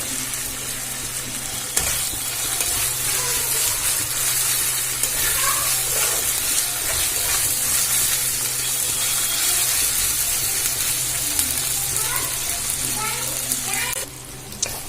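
Ginger garlic paste fries steadily in a pan, a continuous close sizzle with frequent scraping stir sounds throughout.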